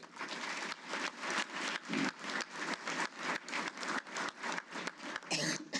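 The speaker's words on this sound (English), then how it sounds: "Please, let's give her a round of applause." An audience at a hall of fame awards ceremony bursts into sustained applause, dense rapid clapping filling the room at an even level for several seconds, with no speech over it.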